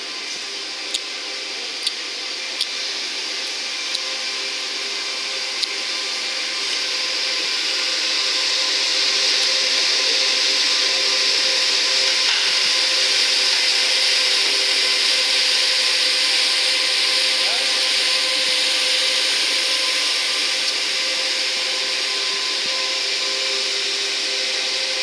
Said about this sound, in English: we'll get a picture of these mining machines that are working here.